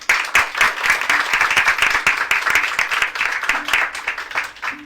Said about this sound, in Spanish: nuevamente un gran aplauso por todo este enfoque que nos dio Catherine